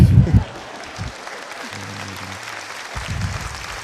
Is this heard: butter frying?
no